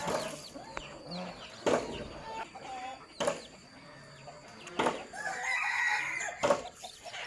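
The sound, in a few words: chicken clucking and rooster crowing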